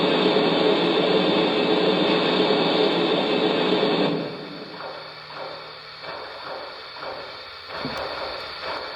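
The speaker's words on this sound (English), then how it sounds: "this is the sound of steam being blown down" Lionel Legacy Heavy Mikado model steam locomotive giving a steam blowdown effect, a loud broadband hiss for about four seconds that cuts off abruptly, followed by quieter mechanical ticking and a faint hum.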